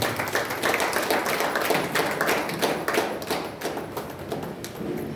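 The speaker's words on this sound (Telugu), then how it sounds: "చప్పట్లు కూడా దేవుని స్తోత్రం చేస్తాం." A church congregation at an Independence Day prayer fellowship claps together in praise, a dense, continuous patter of many hands at steady volume throughout.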